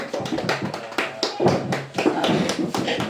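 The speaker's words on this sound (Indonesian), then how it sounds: "Kita berikan tepuk tangan untuk teman-teman" Classmates applauding after a group presentation in a classroom: a run of hand claps and taps close by over about three seconds, uneven and fairly loud, with a little background murmur.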